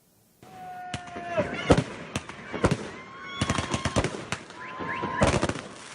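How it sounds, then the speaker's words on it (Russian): New Year's fireworks: repeated sharp bangs crackle and boom in quick irregular bursts, with whistling rockets rising between them and faint voices in the background. "Фейерверки громыхали, не отходя от подъезда."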